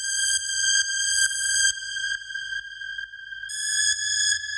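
A bright raw industrial techno synth lead alternates between two close pitches in short repeated stabs, a steady electronic rhythm with a low pulsing beat underneath.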